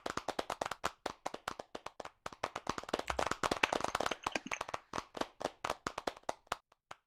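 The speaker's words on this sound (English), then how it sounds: "give him a clap as he comes up on stage." Audience clapping at the KTP Best of the Best Awards 2020 as a presenter from Ashbourne Hill walks up on stage, steady rapid hand claps from a modest crowd, fairly close and continuous without speech.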